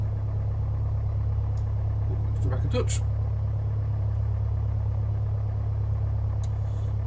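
Idling Piper Warrior II piston engine in the Just Flight simulator, a steady low drone held at 1,000 rpm throughout, with a person talking over it.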